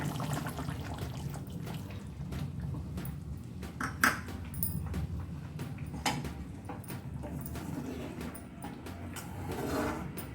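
A continuous low bubbling and simmering of potato curry in a pot, with occasional small clinks and pops over the steady churn.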